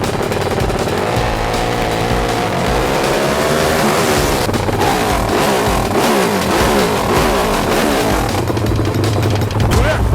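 A Honda Wave 100 motorcycle fitted with a Sonic engine, a CBR head conversion and an 80 mm piston revs hard and loud up close, its engine note rising and falling continuously.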